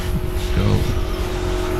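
Schumacher Cougar LD2 electric RC buggy racing during qualifying on an outdoor club track, a high whining motor buzz with a brief louder surge as it passes, under ongoing commentary.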